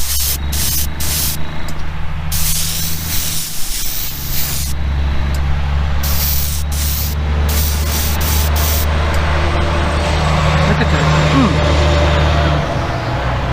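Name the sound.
airbrush spraying paint on a custom Volkswagen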